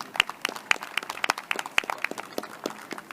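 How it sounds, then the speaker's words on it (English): Scattered applause from an audience at a health tech competition, individual claps standing out distinctly in an uneven patter, moderately quiet, with no voices over it. "Round of applause"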